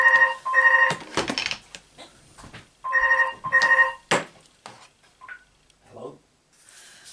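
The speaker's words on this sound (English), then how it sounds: "And there goes my phone." A mobile phone rings in two repeated bursts of a bright electronic ringtone, fairly loud and close, during a paper-stamping craft session; quieter clicks and handling sounds follow after the ringing stops.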